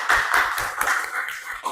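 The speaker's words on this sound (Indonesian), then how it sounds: "Tepuk tangan untuk Zidna kesimpulannya ya." Classroom clapping for a student after she gives a summary: a quick run of sharp, rhythmic hand claps from a small group, close and fairly loud, with no talking over it.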